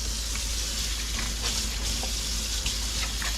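Water runs from a sink tap as hands are washed, a steady close hiss of flowing water broken by faint splashes and rubbing, with no speech.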